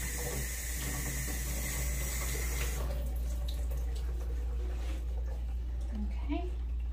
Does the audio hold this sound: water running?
yes